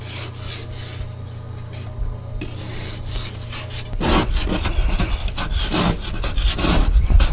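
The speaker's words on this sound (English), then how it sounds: "Gotta scrape the windows." A scraper rasps over frosty car windows in repeated rubbing strokes, quieter at first and then louder and faster, close by with no talking.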